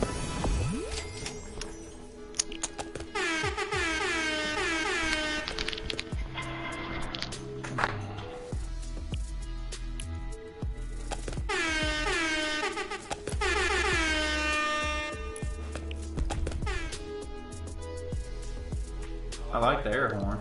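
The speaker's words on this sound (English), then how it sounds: "I like the air horn." Loud blasts of a game air horn sound repeatedly, each a sliding, tuneful honk, amid talking and game noise.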